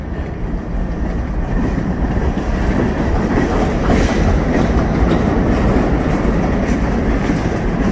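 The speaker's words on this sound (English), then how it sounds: "Here comes my boxcar." A loud, continuous rumble of freight cars rolling steadily past up close, with rhythmic clanking and rattling of wheels on rails.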